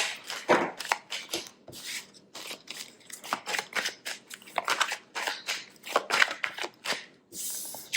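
Oracle cards shuffled and drawn by hand: a rapid series of crisp riffling and flicking bursts, close and moderately loud, continuing steadily without speech.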